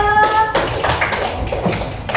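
A class of students claps for a classmate after he answers a fraction-multiplication question, a steady run of dense hand claps under a faint tonal hum.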